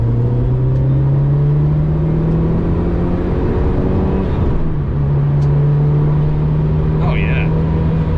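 Subaru WRX track car engine revving up to 5,500 RPM, a loud close steady drone that climbs, dips briefly and holds high again, with faint voices under it.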